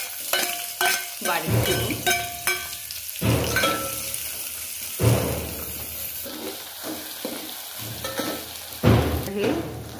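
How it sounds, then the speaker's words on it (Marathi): Two finely chopped onions sauté in a pan for a masoor curry, a steady sizzle broken by repeated close, clacking strokes of a spoon stirring, with a brief voice speaking over it. "कांदा परतून घेऊया।"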